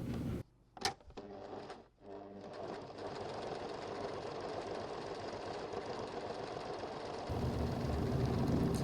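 A sewing machine runs long gathering stitches through fabric for a Christmas dress, starting with a few clicks and a pause, then a steady, fast mechanical whirr that grows slightly louder near the end.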